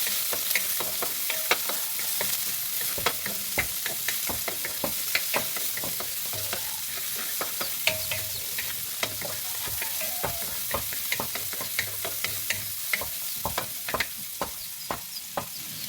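Garlic and onion sautéing in a hot pan for a Filipino vegetable dish, a steady close sizzle with frequent sharp ticks and scrapes of stirring, no talking.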